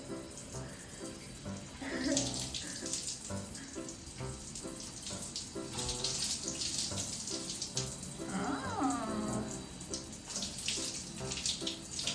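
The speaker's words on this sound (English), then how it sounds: "I'm gonna rinse it out now because it's been 20 minutes." Tap water runs and splashes steadily while hair is rinsed, with hands moving through the stream, close by and fairly quiet.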